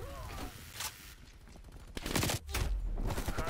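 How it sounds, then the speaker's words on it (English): Turret or minigun fire in a video game, with a couple of sharp gunfire bursts cutting through a noisy battle mix and a heavier, sustained burst rattling near the end. "Was that turret or was that a minigun?"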